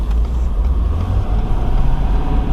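A 2021 Ford F450 Platinum truck rolls along at low speed in fifth gear, its engine producing a steady, loud, low rumble with road noise throughout and no talking.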